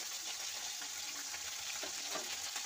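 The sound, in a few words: tilapia fish frying in oil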